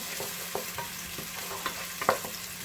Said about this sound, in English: I'm going to add all chopped onions first, and I'll be cook it in the medium heat until they will be little